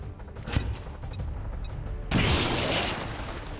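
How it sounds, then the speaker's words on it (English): Grenade explosion in XCOM 2, a sudden loud blast with a rumbling tail that follows a few sharp clicks and scattered small shots, no talking over it. "Grenade out"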